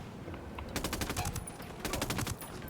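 Rapid automatic gunfire from the video game Ghost Recon Wildlands, with two dense bursts of crackling shots close up over a steady game background and no voices.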